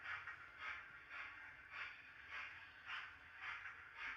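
A model railway train rolls into the station, giving a faint, steady rhythmic clatter of wheels over rail joints with a soft hiss, repeating about every half second.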